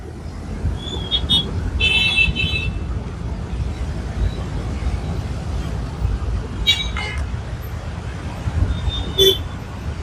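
Congested traffic at a standstill on a highway and service road at Guirim, with a steady rumble of idling engines, a few short car horn toots near the start and again toward the end, and people talking nearby.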